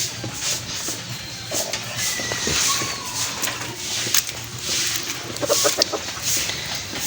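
Chickens and a rooster clucking in a coop during a typhoon, repeated close clucks and calls over a steady wet, windy background.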